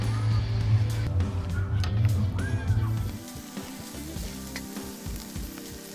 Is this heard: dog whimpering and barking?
no